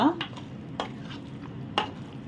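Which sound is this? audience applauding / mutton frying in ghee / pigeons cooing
mutton frying in ghee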